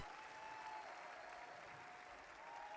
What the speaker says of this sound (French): Applaudissons magnifiquement pour Jésus-Christ.